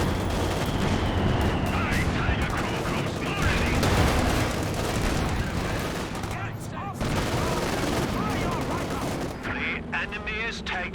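Werfer rocket artillery and small-arms fire in the video game Company of Heroes 2 form a dense, continuous barrage of loud blasts and rattling shots, with a person talking over parts of the battle.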